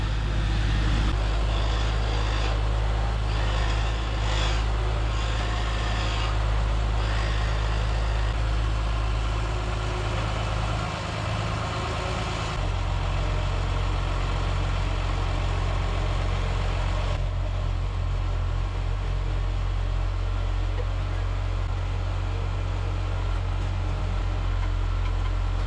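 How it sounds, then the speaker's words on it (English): A homemade self-propelled manure pump with its engine built right in runs steadily close by, a continuous low idling drone with a slight shift in tone partway through, alone without voices. "These guys have some sweet homemade pumps. The engine built right in."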